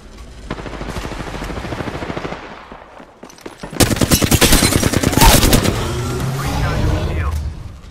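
Rapid automatic gunfire in the Apex Legends battle royale game, a sustained burst for several seconds, then a louder, denser volley with booming impacts, close and punchy.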